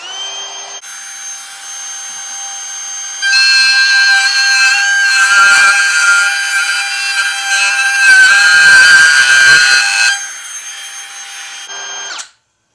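A Dewalt cordless router runs at speed setting 7, a steady high-pitched whine that climbs louder once the bit bites into the work, holds for several seconds, then drops back to a lighter spin before cutting off.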